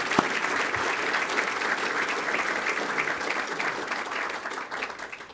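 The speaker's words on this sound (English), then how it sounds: "Let's give them all a great round of applause." Sustained audience applause at a civic port address in Los Angeles fills the room steadily and evenly, a dense wash of clapping with no voices on top.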